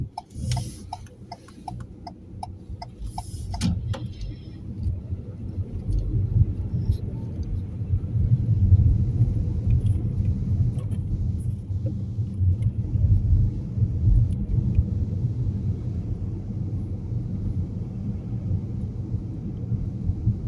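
A car is driven during a mock driving test, with a steady low engine and road rumble throughout and a rapid ticking indicator at the start.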